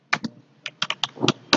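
Ad text typed on a computer keyboard: about ten crisp, close keystrokes in uneven bursts with short pauses between, loud and alone.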